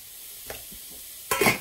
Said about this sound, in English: Now they've started to fry